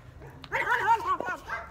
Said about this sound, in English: Oh, it's just the dogs.